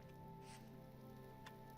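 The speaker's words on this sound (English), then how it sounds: "No, it's rain, it looks like." Steady rain falling in the video game Vintage Story, a soft continuous patter that fills the whole short stretch at low volume, with no voices.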